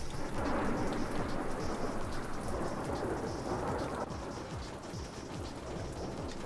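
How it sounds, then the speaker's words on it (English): Steady heavy rain hisses with deep rolling thunder in the Assetto Corsa racing sim, a dense continuous downpour with rumbles that ease slightly toward the end and no voices. "Why is it raining?"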